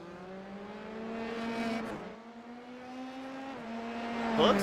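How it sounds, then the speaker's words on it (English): A Formula 3 race car in the iRacing game at the Italian Grand Prix circuit, its high-pitched engine note rising steadily through the gears with a brief dip at an upshift, heard close and continuous. "How is the car moving for Fitzsimmons?"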